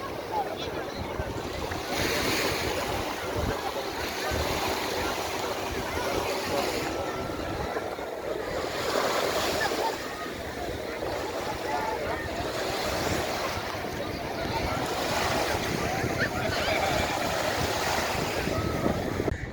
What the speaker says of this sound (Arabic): وده البحر اهو بتاع مطروح